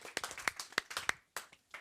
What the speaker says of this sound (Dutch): Dames en heren, applaus voor iedereen hier.